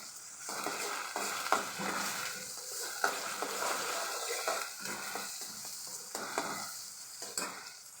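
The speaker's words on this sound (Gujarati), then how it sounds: "હવે આદુ મરચું નાખી દેશું સેજ સાતળી દેશું" Ginger and chilli sautéing with tomatoes in a pan over a high flame, a continuous soft sizzle broken by rhythmic spatula stirring and the odd clink, close and without speech.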